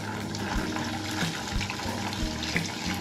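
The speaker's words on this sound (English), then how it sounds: "I have some hot water that I heated up on my range, and I'm going to pour" Hot water heated on a kitchen range is poured into a 5-gallon bucket to soak coco coir, making a steady splashing, gurgling pour that runs continuously at close range.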